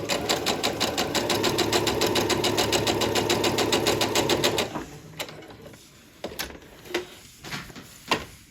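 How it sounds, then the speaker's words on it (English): A sewing machine stitches along the seam of a fabric sewing machine mat in a fast, steady, rhythmic run for about five seconds, then stops, followed by scattered soft handling clicks and rustles of fabric. "I'm just going to sew along that seam."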